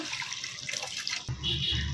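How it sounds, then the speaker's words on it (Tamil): Tamarind water splashes and pours steadily into a pan of fish curry, a continuous watery rush that grows fuller toward the end, close by with no talking. "இந்த டைமில் நம்ம கரைச்சி வச்சுருக்க புளி தண்ணியை ஊற்றிக்கலாம்"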